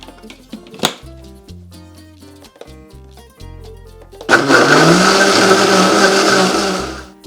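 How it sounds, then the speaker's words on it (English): Blender whirring loudly as it purées tomatoes, onion, garlic, salt and broth for Mexican red rice, starting abruptly after a stretch of background music and running steadily to the end. "You wanna make sure that you blend this until it is completely"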